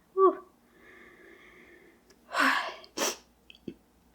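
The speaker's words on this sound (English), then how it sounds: "Oh, I'm going to sneeze." A single sharp sneeze bursts out after a quiet breathy stretch, followed by a short exhale and a couple of small clicks.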